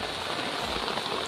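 Steady rain falling in a village during the first monsoon shower, a continuous close hiss of drops on the ground with no pauses.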